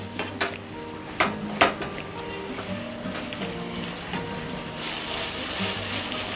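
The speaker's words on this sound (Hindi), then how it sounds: "चिकन के साथ मसाले को अच्छी तरह से मिक्स करेंगे और इसे 2 मिनट के लिए भुनेंगे।" Shredded chicken being sautéed with masala spices in a pan, soft frying under a few sharp clinks and scrapes of a utensil against the pan, with a low steady background hum.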